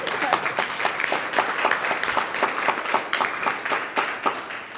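Conference audience applauding after a technical talk on build-versus-buy at the Linux Foundation, a loud, rhythmic burst of clapping with distinct hand claps pulsing steadily throughout.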